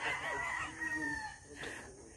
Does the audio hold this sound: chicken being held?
yes